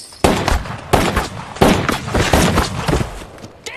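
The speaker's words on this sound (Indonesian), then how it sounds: "orang ini langsung saja ditembak oleh Brody karena mereka ini adalah seorang" Gunshots ring out in the Western horror film Bone Tomahawk, several loud sharp blasts fired in quick irregular succession, each followed by a brief echoing tail.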